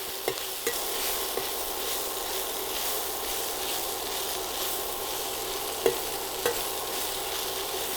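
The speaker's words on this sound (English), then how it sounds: "Saute our onions along with our Tindooras." Red onion sautéing with tindoora (ivy gourd) in hot oil, a steady soft sizzle with occasional stirring clinks and scrapes, close and fairly quiet, no talking.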